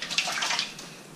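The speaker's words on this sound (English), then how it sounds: "Let's give us a big splash." A bird splashes about in a bath of water, giving a brief, steady run of close, wet splashing and sloshing with no voices.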